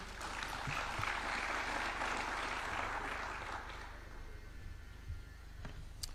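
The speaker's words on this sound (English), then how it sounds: "Let's give them another hand clap." Audience applause at a University of Nairobi innovation launch for young innovators, a broad sustained clapping wash that fades over the last seconds, leaving a few scattered claps.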